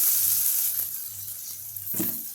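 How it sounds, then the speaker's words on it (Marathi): Rice sautéing with cumin in a hot pan sizzles loudly and steadily, with a brief stir or scrape near the end and no talking. "आता हा तांदूळ चांगला आपण परतून घेऊ"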